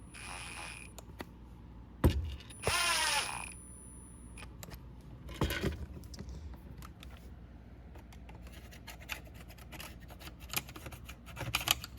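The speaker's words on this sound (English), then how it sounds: "I'm just going to very carefully screw these back on" Small screws being driven back into a Shark Zero M power nozzle brush make a string of faint clicks and light plastic creaks. A louder ratcheting whir cuts in near the start, and a few sharp taps follow.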